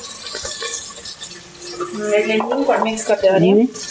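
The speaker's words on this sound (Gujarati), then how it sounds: "હા હિંગ મિક્સ કરી દઉં" A spoon clinks and scrapes in a pan while spice masala with asafoetida is stirred, short metallic taps and scrapes, close, with a person talking over the later part.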